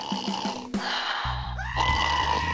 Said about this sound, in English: It looks like someone was screaming.